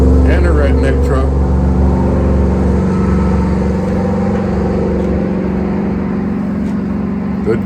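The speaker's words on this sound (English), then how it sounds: "And a redneck truck." A pickup truck drives past outdoors, a loud steady engine rumble sustained throughout, with a passing motorcycle and hot rod heard just before it.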